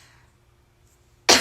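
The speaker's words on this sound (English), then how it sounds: "I'm gonna be coughing a lot." After near silence, one sharp, loud cough bursts out right at the end, close and dry.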